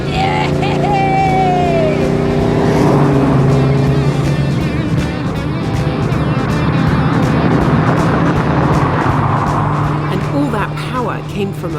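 A classic Chevrolet Camaro with a 4.9-litre V8 making 290 horsepower: a steady, loud engine rumble runs throughout, with someone talking over it.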